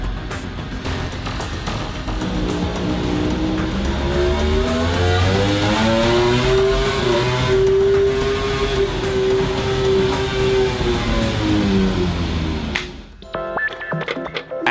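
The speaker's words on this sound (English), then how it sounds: "At the laboratory, they are testing the durability of the engine." A Suzuki MotoGP engine runs steadily on a laboratory durability test bench, a loud sustained whine whose pitch rises and falls gently over about twelve seconds before cutting off abruptly near the end.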